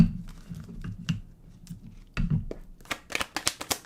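Tarot cards being shuffled by hand during a zodiac reading, a run of soft riffling and tapping clicks that grows sharper and more rapid toward the end, with no talking.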